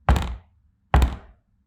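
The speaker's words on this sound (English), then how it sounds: "2 thudding pounds on the door." Two heavy thudding pounds on a door, spaced about a second apart, each a deep booming knock that decays quickly into silence.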